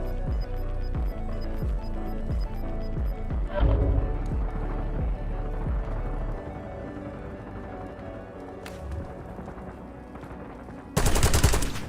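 Rapid automatic gunfire bursts in Call of Duty Warzone, repeated loud rattling volleys with a heavy low thump, tapering off, then a sharp burst of noise near the end.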